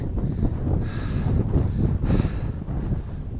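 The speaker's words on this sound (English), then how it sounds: "it's getting windy" Steady low wind rumbles against the microphone near the top of Snow Mesa on the Colorado Trail, with a couple of brief gusty swells rising over the constant roar.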